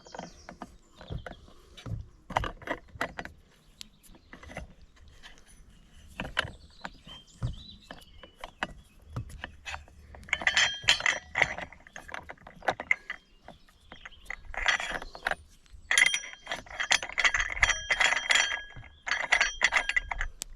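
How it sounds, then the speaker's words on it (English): An Allen key working loose the blade fitting on an Oleo-Mac BCH 250T, with close, irregular metallic clicks, ratcheting turns and small clinks of hardware, busier in the second half. "Allen key into the hole again, and turn it to the right to loosen it."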